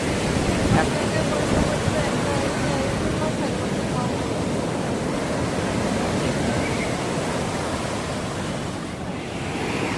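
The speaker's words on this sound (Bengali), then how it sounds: "পুরী সমুদ্রে প্রচুর ঢেউ চলছে" Big sea waves breaking on the beach at Puri, a steady broadband roar of surf with wind, continuous and loud throughout, with faint voices mixed in.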